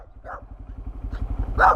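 A puppy barks and yips a few times over a steady low engine rumble in Southern California, the last bark loudest and close.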